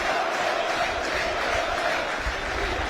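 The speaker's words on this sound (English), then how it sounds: "The crowd now, listen to this." A football stadium crowd at a Wrexham AFC versus Forest Green Rovers match roars and chants in a dense, continuous wall of sound, loud and sustained throughout.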